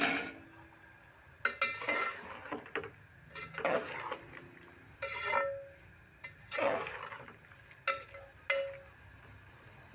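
Potatoes, peas and carrots with fenugreek and coriander being stirred in a pan, irregular scraping strokes and light metallic clinks of a spoon over a faint sizzle, fairly quiet.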